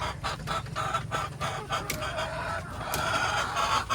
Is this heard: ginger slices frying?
no